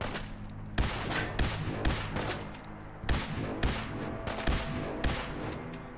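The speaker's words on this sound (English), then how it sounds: "Who's shooting me?" Rapid bursts of gunfire from the Fallout 4 VR video game crack out in repeated, loud volleys, with sharp shots clustered at irregular intervals across the whole stretch.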